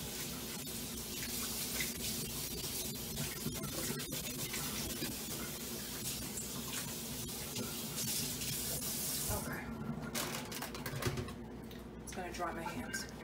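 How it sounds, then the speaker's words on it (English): Tap water running steadily over a hand rinsed above a plate in a home kitchen, a constant close splashing stream that cuts off near the end, followed by a few small clatters. "Give me a second just to wash my hand in this plate."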